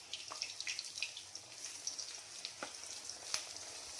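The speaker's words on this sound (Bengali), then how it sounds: "আর এদিকে পেঁয়াজি ভাজা হচ্ছে" Onion fritters (piyaji) deep frying in hot oil for a Bengali Ulto Rath Yatra feast: a soft, steady sizzle with scattered sharp pops and crackles, heard close and quiet with no voices.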